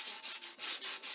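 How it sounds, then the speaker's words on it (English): A scrub pad is rubbed back and forth over a sticky cast iron skillet, giving quiet rhythmic abrasive swishes, about five strokes in quick succession with no talking. "So we're just gonna kind of scrub this, smooth this all around to get all this sticky stuff."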